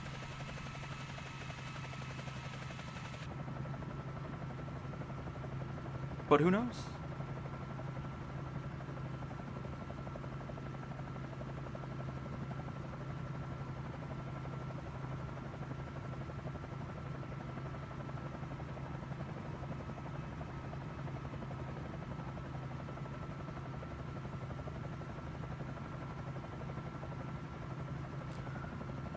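Helicopter in Microsoft Flight Simulator 2024 on the SU6 beta build, a steady droning rotor and engine hum held for half a minute, with one sharp click early on and a brief spoken phrase.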